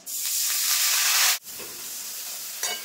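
Ground spices for a Bengali begun-puti fish curry sizzle loudly in a pan with a little water, a close steady hiss with stirring that drops off abruptly midway, then resumes more softly.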